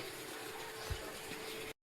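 Running water flows steadily into containers as they fill, a faint continuous rushing hiss with one soft low bump, then it cuts off abruptly.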